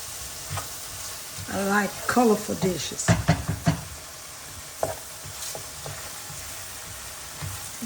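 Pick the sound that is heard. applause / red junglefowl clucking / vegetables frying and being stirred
vegetables frying and being stirred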